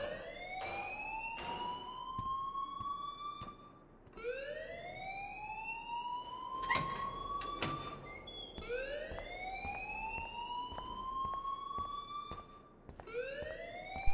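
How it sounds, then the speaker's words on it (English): A wailing siren-like alarm in the Life Is Strange video game rises and falls in repeated sweeping cycles, loud and continuous, with brief sharp clicks partway through. "please turn off that alarm since that's your job"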